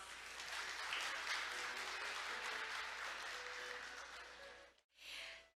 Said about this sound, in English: Let's give the Vice Minister another big round of applause.